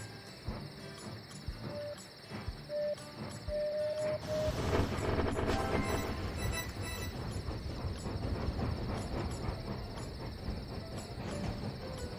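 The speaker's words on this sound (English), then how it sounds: "And my train is just about to hit an obstacle." A train running in the Tiny Rails game: a steady high-pitched mechanical whir and rattle over game sounds, getting fuller and louder midway and then rolling on continuously, with no talk.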